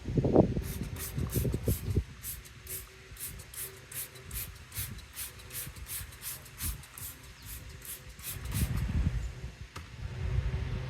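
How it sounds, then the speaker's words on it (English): Rapid, evenly spaced hissing bursts from a pump sprayer applying degreaser to a Ford F-350 repeat close by for several seconds, framed by rustling handling noise. "So we'll turn this on, spray."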